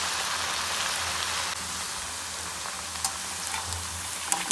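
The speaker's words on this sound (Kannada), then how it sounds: "ಒಂದೇ ಸಲ ಫ್ರೈ ಮಾಡಿದ್ರೆ ಇದು ಸ್ವಲ್ಪ ಡೀಪ್ ಫ್ರೈ ಆಗಲಿ" Potato French fries deep fry in hot oil with a dense, steady crackling sizzle close by. The sizzle eases slightly partway through, and a few faint clinks follow near the end.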